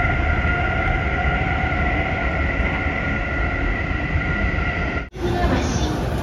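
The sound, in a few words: commuter train running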